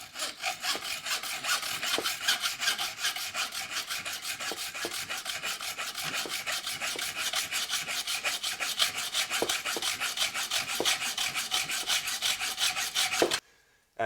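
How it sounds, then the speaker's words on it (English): A hand saw cuts an aluminium stair rod bar in quick, even back-and-forth strokes, a close rasping rhythm that runs steadily and then stops abruptly. "And as it's an aluminium, it's easy to cut."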